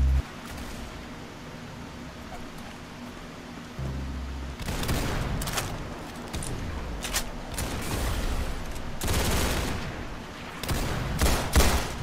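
Rapid gunfire bursts from a first-person video game shooter crackle loudly in close, dense volleys, starting after a quieter opening and repeating in clusters with short gaps between them.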